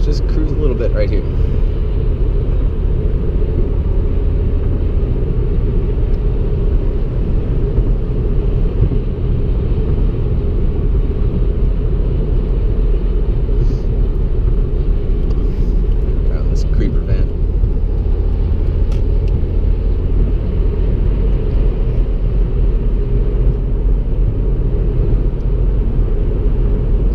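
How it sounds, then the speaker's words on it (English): Steady, loud road rumble and tire roar fill the cabin of a moving 2015 Subaru WRX fitted with Blizzak winter tires, continuous throughout with a few faint clicks. "It's a little noisy in here. I think that has a little bit to do with the Blizzaks on it."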